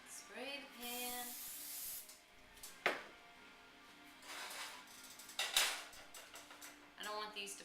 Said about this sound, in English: Spray the pan.